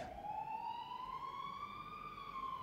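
A siren wails in a single long rising tone, clear and fairly loud against steady background noise, with no voices over it.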